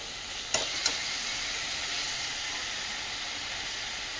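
Moringa and spinach greens sizzle steadily in a frying pan with a little water, a constant close hiss broken early by two brief clicks of stirring.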